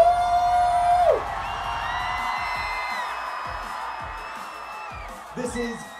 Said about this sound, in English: Who is louder? Scream your Jewish pride.